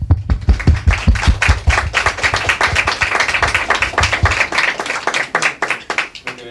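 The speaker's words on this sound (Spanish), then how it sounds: "un aplauso para ustedes" Sustained applause and clapping from an audience at a career orientation expo event in Palmares, dense and steady for about five seconds before thinning out near the end.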